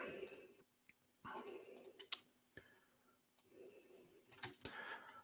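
Sharp computer mouse clicks as a link is opened during a live coding meetup presentation, a few isolated quiet clicks spaced apart in a faint, otherwise near-silent room.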